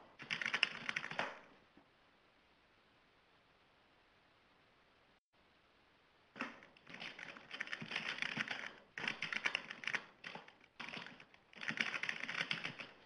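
An answer typed on a computer keyboard: a quick burst of close key clicks, a long pause, then several more bursts of steady typing.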